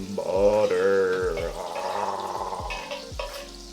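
A stick of butter melts in a pot over medium-low heat for French onion soup, with a gentle sizzle and a few clunks and scrapes from stirring close by.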